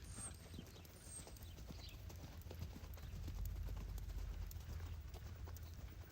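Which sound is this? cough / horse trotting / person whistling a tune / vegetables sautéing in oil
horse trotting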